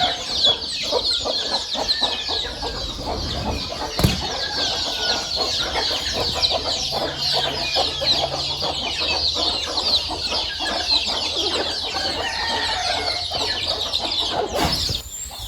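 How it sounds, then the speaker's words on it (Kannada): A flock of chickens, young and grown, clucking continuously and close by after being let out of their coop, with busy overlapping calls and occasional sharper squawks. "ಆಚೆ ಬಿಟ್ಟ ತಕ್ಷಣ ನೀರು ಕುಡಿತಾ ನೋಡಿ ಕೋಳಿಗಳು"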